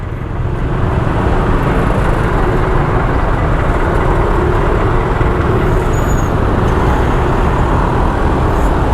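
Dense city-centre traffic with many large trucks at a congested junction in East Java, heard as a loud, unbroken roar of engines and tyres close by, with no talking.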